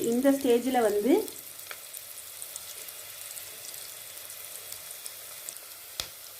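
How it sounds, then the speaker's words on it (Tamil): Onion, garlic, green chilli and curry leaves sauté in a pan for vendakkai puli kulambu, a faint steady sizzle with scattered crackles and one sharp tap near the end, briefly overlapped by a voice at the start. "இந்த வெங்காயம், வெள்ளைப்பூடு, பச்சை மிளகா, கருவேப்பிலை இதெல்லாம் நல்லா வதங்கி வருது"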